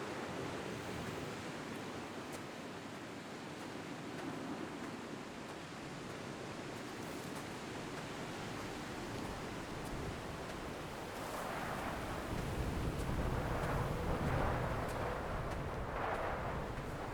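Steady video game wind blows as a broad, constant rush that swells slightly louder toward the end, with no voices over it.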